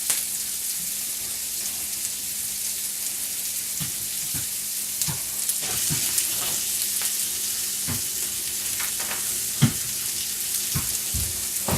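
Italian sausage squeezed from its casing sizzles steadily in a pan, a constant close frying hiss with scattered soft pops and taps, no talking.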